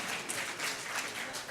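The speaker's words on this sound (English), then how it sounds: "No one's ever got an applause for turning a light on before" A conference audience at a testing talk applauds, a dense wash of many hands clapping at once, steady and moderately loud for a brief moment without speech.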